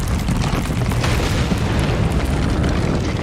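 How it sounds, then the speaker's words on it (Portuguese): Loud, sustained booming rumble from the Brumadinho disaster, likened to a large truck tire bursting on the road, heavy low-end roar filling the whole stretch with no talk. "Foi um estrondo."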